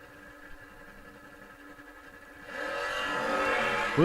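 A drag race start with cars in both lanes, one a Camaro, launching wheels-up: engines idle quietly at first, then a loud, rising roar of acceleration takes over for the final second and a half.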